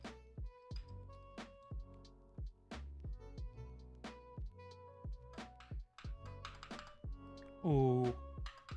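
Keystrokes on a Lord of the Rings themed mechanical keyboard, a steady run of sharp clacks spread through the stretch, with quiet talk underneath and a brief voiced exclamation near the end.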